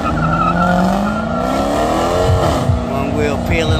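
Loud engine roar and tire squeal as a pickup truck peels out on one wheel during a night street takeover, with rising revs and scraping screech, voices talking over it throughout.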